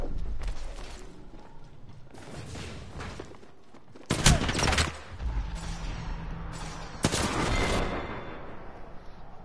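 Rapid gunfire from Apex Legends comes in dense bursts, with a few sharp, loud volleys standing out over steady, busy game noise.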